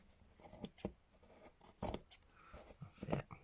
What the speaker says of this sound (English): Just trim that little bit.